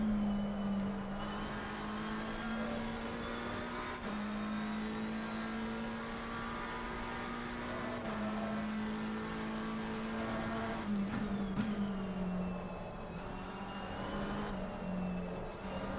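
A race car engine in a sim racing game at Donington drones steadily at high revs and close range, its pitch dipping and climbing through gear changes and throttle lifts for about sixteen seconds.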